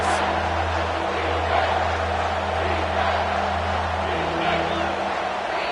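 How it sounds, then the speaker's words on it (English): A stadium crowd roars steadily in an NCAA football video game, a constant dense wash of cheering held at an even level throughout, with a commentator talking over it. "3rd down, and this crowd is tearing the lid off this place."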